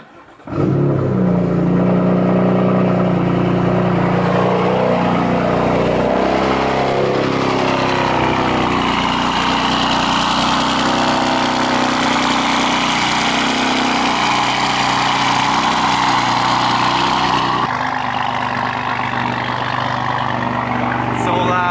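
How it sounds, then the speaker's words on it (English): A tuned BMW M4 starts up after a short quiet moment and then idles loudly and steadily nearby, its engine note holding a constant rumble for about twenty seconds. "But real quick, start the car up. Hopefully, it freaking turns on."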